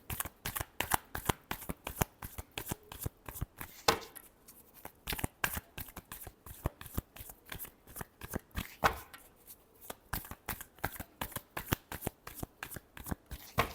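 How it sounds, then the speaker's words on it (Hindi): Tarot cards shuffled steadily by hand, a fast, even run of crisp riffling flicks that carries on for over ten seconds, with a couple of brief pauses and no talking. "Last shuffle."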